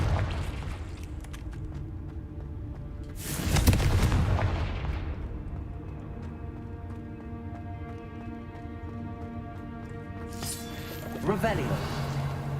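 In Hogwarts Legacy, a Confringo explosive spell lands with a heavy booming blast, followed by a rumbling decay over a musical game score, with a second blast near the end.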